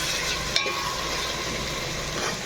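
Ginger-garlic paste fries in mustard oil with a steady close sizzle, broken by one quick scrape or clink of a stirring utensil. No one speaks.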